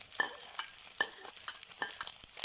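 Pork and garlic stir-fry in a hot pan, giving a steady close sizzle with bright scrapes and clinks of a utensil against the pan every half second or so.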